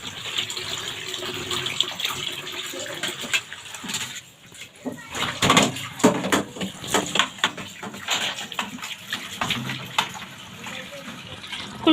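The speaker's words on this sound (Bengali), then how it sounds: "এখন আলুগুলো ধুয়ে নিচ্ছি।" Tap water running and splashing while small whole potatoes are washed in a kitchen, an uneven gushing with clatter and handling noise, close by.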